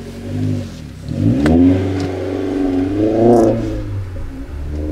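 An Opel Astra OPC engine revs hard nearby, rising and falling in several throaty bursts over a rumbling idle, with no talking.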